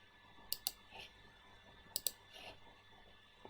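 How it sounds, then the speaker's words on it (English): A computer mouse clicks twice in quick succession, then repeats the double click about a second and a half later. The clicks are close and crisp over a quiet room. "double click that"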